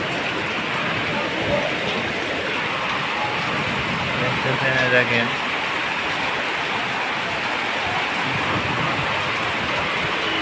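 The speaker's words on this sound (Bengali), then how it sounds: "সেই কাঙ্ক্ষিত বৃষ্টি আসতে হচ্ছে।" Heavy rain pours steadily in Naogaon, Bangladesh, a dense, unbroken hiss lasting throughout, with a person speaking briefly over it midway.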